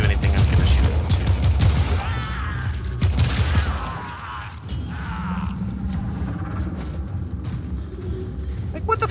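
Rapid gunfire in the video game Warframe, a dense sustained fusillade of shots with mechanical clatter, loud and continuous, thinning slightly partway through, with game effects layered over it.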